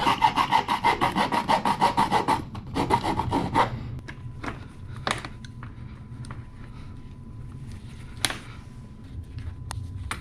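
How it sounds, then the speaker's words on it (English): A handheld Sawzall reciprocating saw makes relief cuts in rapid rasping strokes, loud and close for about three and a half seconds. After it stops, scattered clicks and handling taps follow while working on an R56 MINI Cooper S intercooler install. "I've got this handheld Sawzall, which works really well"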